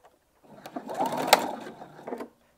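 A sewing machine runs a short burst of stitching through slippy satin bias binding, a quick whirring rattle starting and stopping close by.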